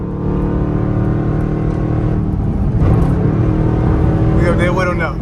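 Dodge Durango engine pulling hard in traffic, a steady loud drone that lifts as it accelerates, with a downshift and rising whine near the end; someone talks over it.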